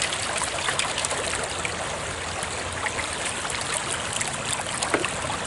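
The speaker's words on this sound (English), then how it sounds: "Wash away the last of that mud" Mud washes through a China sluice in running water, a loud, steady close-up rush and trickle of water with faint splashes, and no voices.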